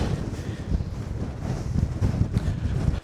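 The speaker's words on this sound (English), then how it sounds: "So the wind's died down a touch." Strong wind buffets the microphone outdoors at night in Northumberland, a steady dense roar with gusty swells throughout, cutting off abruptly at the end, with no one talking.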